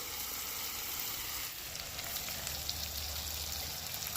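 Garlic, ten to twelve cloves, sizzles and fries in oil in a pan for Afghani chicken, a steady crackling hiss that runs on without a break, close and fairly quiet, with no talking.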